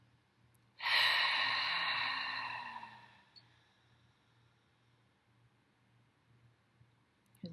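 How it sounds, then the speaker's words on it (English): A single long, breathy exhale during a full moon ritual, rising suddenly to a close, soft rush of air that fades over about two seconds, followed by near silence with faint room tone. "Let's go ahead and breathe here."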